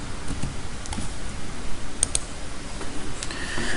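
Keys clatter on a computer keyboard in quick, uneven bursts while a Google search is entered, close and fairly quiet against a faint room hiss.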